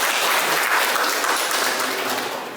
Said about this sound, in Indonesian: Kasih aplaus untuk kalian.